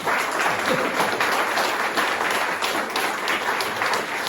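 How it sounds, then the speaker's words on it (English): A Manchester audience gives a round of applause for musicians Victor Brox and Rod Mayall after an interview; steady, close, fairly loud clapping continues throughout without talk. "can we have a real nice round of applause, please, for Victor Brox, Rod Mayall"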